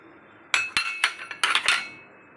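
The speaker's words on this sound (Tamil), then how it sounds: "இதை இப்போ நாம் வடிகட்டிடுவோம்." Several sharp metallic clinks of utensils against a pot or vessel while straining a herbal long pepper root decoction, close by and irregular, with short pauses between clusters and no talking.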